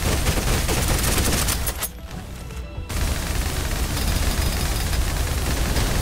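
Gunfire in the PC shooter game Snowbreak: dense, continuous rapid fire forms a loud wall of noise, broken by a brief lull of about a second before the shooting resumes at full intensity.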